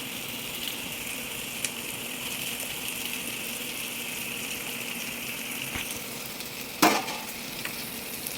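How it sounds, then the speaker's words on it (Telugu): Tamarind leaves and chana dal fry and get stirred in a pan, a soft steady sizzle with faint scraping and a brief louder clatter of the spoon near the end, no speech. "ఇప్పుడు చింత చిగురు కూడా వేసేసుకుంటున్నానండి."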